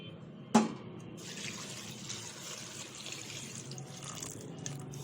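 Water poured into a pan for amaranth-leaf dal, a sharp splash followed by a soft, steady trickle and bubbling that stays faint and close.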